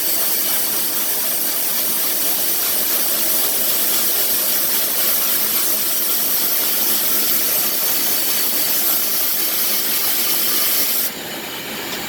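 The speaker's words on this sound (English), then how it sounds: "So you can see it works really well. I mean, it sandblasts pretty fast." A Harbor Freight sandblaster fires abrasive media with compressed air in a steady, loud, close rushing hiss that runs unbroken for about eleven seconds, then abruptly drops to a quieter hiss.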